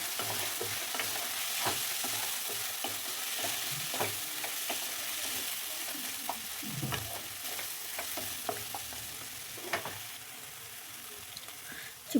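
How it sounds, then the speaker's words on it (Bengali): Ground soybean paste being stirred in a hot pan with a spatula for a Bengali steamed soybean dish, giving a steady soft sizzle with frequent light scraping and tapping strokes, close and continuous with no talking. "দিয়ে এটাকেও একটু নেড়ে চেড়ে নেবো ভালোভাবে"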